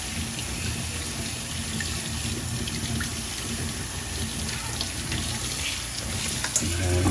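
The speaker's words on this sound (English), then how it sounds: "Give it a quick rinse off." Water runs steadily from a tap as a cleaned blue crab is rinsed, a continuous close splashing hiss with slight changes as the crab is moved under the stream.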